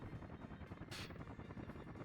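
Construction helicopters in Workers & Resources: Soviet Republic hover over a building site, a continuous rotor whir and thrum at moderate distance, with a brief hissing burst in the middle.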